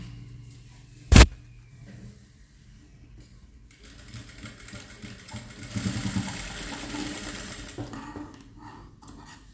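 A sewing machine runs faintly while sewing a government school uniform coat, a soft steady hum for several seconds after a sharp click and a quiet lull.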